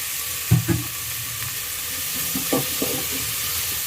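Onions sautéing in oil in a pan for an eggplant and ridge gourd sambar, a constant soft sizzle broken by a few sharper spatula scrapes and knocks, close and without talk.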